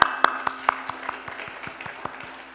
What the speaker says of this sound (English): Let us clap our hands for the choir.